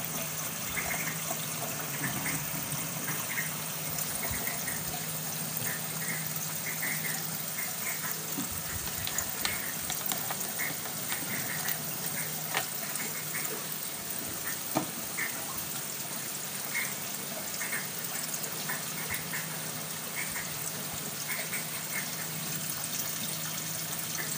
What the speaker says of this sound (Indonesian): Lumayan cukup deras. Gue pakai pompa Yamano ATC yang 7000 liter per jam.